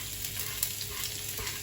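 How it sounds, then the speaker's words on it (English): Fennel, garlic, onions and rosemary sizzle in a frying pan with a steady, soft crackling hiss, close and continuous without talk. "take this over to your frying pan, and then in goes the fennel, the garlic, the onions and the rosemary"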